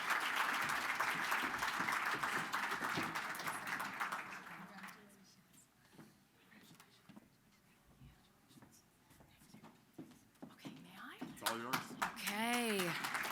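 Audience applause rings out at the Big Brothers Big Sisters SPARK Awards in Saint John as a speaker is welcomed to the stage, steady and full for several seconds, then fading into scattered claps and murmurs before renewed clapping swells near the end.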